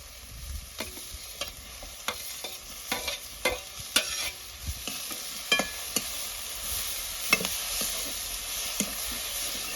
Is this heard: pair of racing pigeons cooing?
no